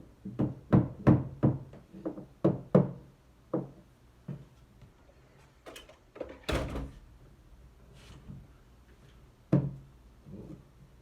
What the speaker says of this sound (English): Couple little taps with the hammer.